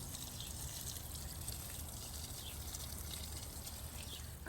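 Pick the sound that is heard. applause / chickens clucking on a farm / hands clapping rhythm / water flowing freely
water flowing freely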